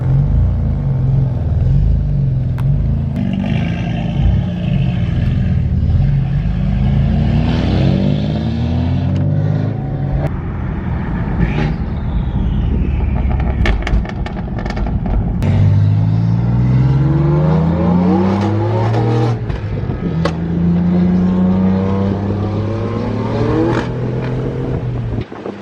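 Big-turbo BMW F80 M3 engine revving hard and loud up close, repeated climbing revs with rumbling exhaust and pops between pulls, no talking.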